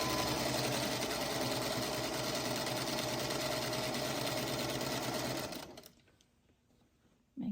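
A sewing machine stitches steadily around a circle on a quilt block, its rapid mechanical whir loud and continuous for about five seconds before stopping abruptly, leaving quiet room tone and a brief knock at the end.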